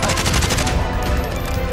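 Rapid gunfire from a window in the battle royale shooter Warzone, with two players leaning out and firing. Close, loud bursts of automatic shots crowd the first part, then continue as a dense, steady rattle.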